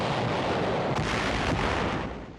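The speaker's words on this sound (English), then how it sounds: "Tanks blast Jap positions in the hills outside the city" Tank guns fire on Japanese hill positions outside Shuri during the Battle of Okinawa, a dense, roaring wash of blast and rumble with faint sharper bursts, loud and unbroken before easing off at the end.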